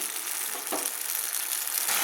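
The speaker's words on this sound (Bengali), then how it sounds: "দিয়ে আমি ভালো করে টমেটোটা যতক্ষণ না কাঁচা গন্ধটা চলে যাচ্ছে ততক্ষণ আমি একটু নেড়ে নিচ্ছি" Tomato paste frying in a pan, a dense close hiss of sizzling with a brief stirring scrape partway through, no voices.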